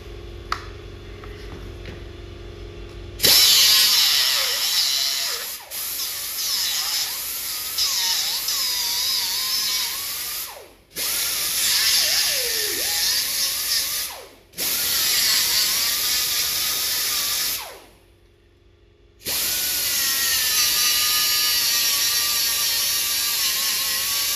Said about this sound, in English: we're going to use my little air-powered angle grinder, and we're just going to grind them down